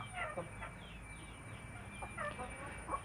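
Village chickens cluck in short bursts while scratching through leaf litter for compost, over a steady low rumble of background noise, with a faint high whine running throughout.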